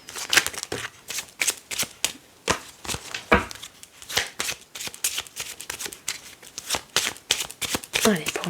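A deck of 32 playing cards being shuffled and cut for a card reading, with dense, rapid riffling and snapping of cards close by, continuous bursts throughout.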